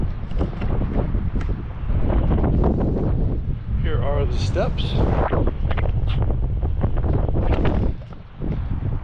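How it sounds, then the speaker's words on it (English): Heavy wind at a beach buffeting the microphone in loud, rumbling gusts throughout, with a person speaking briefly and some bright squeaky sounds midway. "A little windy today. I don't know how the sound's gonna be."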